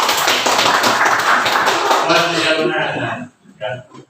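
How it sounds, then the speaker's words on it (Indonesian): A class claps hands together in a dense burst of applause mixed with voices, then it stops abruptly. "kita tepuk tangan dulu"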